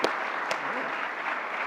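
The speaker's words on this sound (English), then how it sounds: "just a round of applause" Audience applause after a talk in a lecture series, a dense, steady wash of clapping heard briefly and fairly close, filling the room evenly.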